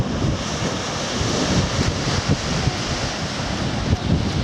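Waves washing onto a stony beach at a southern seaside resort, a steady loud roar of surf with rushing wind noise on the microphone and no talk.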